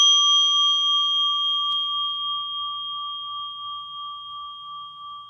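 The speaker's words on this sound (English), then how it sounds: "that kind of a bell that they ring, and once you strike it" A monk's bell rings out after a single strike, a clear sustained metallic tone that decays slowly and evenly in a quiet room.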